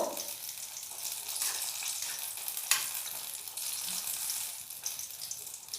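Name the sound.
fish bati chochori mixture stirred and mixed well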